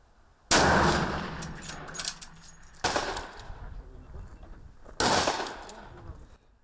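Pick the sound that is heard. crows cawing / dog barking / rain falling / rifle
rifle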